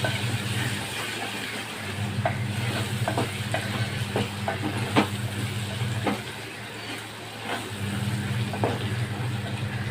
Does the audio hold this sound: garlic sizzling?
yes